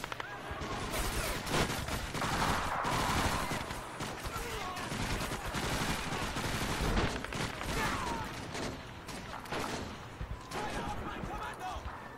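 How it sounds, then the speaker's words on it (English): Dense, continuous rifle and machine-gun fire in the Men of War: Assault Squad 2 video game, fought on a City Hall mod map. The bursts overlap into a loud, unbroken fusillade, with voices shouting underneath. "Good shooting, comrades."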